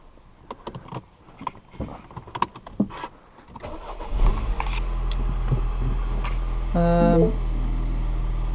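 Mini Soho Edition engine cranked and started after some clicks and handling noises, then settling into a steady low idle with a brief mechanical whir partway through.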